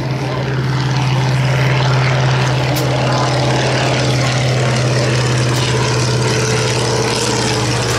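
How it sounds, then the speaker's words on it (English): An antique propeller airplane roars past at high speed over a rainy airshow, a loud sustained engine drone that stays strong and close for the whole stretch. "I guess this is what you would call a high-speed pass."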